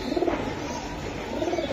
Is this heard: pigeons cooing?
yes